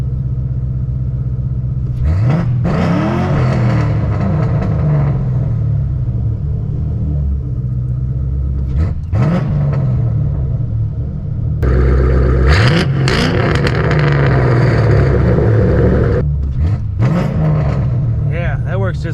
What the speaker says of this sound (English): now I'm going to mash the throttle and then hit the clutch